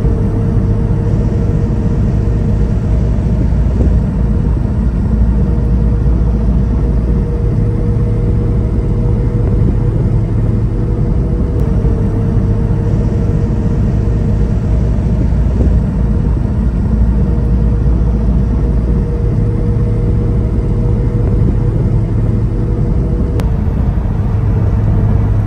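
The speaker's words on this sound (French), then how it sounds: "la voiture roule toujours, elle fait plus de bruit" Steady engine rumble and road noise from inside a moving Honda S2000 on a US road trip, the car making more noise than usual, continuous and loud, with a low droning hum throughout.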